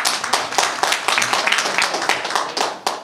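An audience at a commemoration ceremony for an organization's 109th founding anniversary claps in a brief, lively burst of distinct, close hand claps with uneven rhythm.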